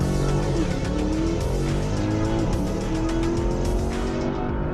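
A 2021 Porsche Panamera GTS pulling a launch-control start, its engine note climbing steadily through the gears in a loud, continuous rising roar heard from inside the car.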